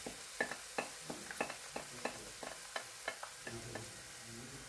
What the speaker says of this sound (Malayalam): ഇനി അതിലേക്ക് നമ്മൾ നേരത്തെ വേവിച്ച് വെച്ച കടല ചേർത്ത് കൊടുക്കണം.